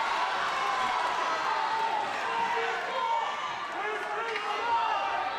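High school wrestling match crowd cheering and shouting in a gym, a steady roar of voices throughout, with commentary over it.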